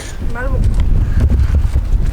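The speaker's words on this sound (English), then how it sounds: "It's pretty windy" Steady low rumbling wind buffets the microphone throughout at Washington Slagbaai National Park, Bonaire, with a brief voice and faint movement sounds underneath.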